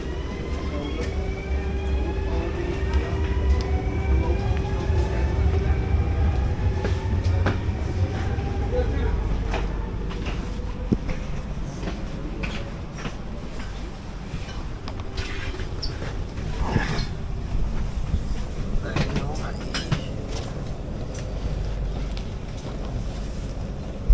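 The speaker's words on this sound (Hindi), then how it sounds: "ट्रेन मिल गई है यार।" A train rolls along rails in the Netherlands with a rumbling, rattling low roar and occasional clacks and squeals, steady and fairly close, with wind noise and some voices in the background.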